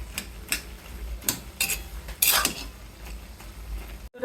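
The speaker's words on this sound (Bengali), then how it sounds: "এইভাবে কিছুটা খুচিয়ে খুচিয়ে ভেঙে দিব" Soft metal spatula taps and scrapes in a pan as cooked greens are poked and broken apart, a few spaced clicks with quiet cooking noise between them, close by.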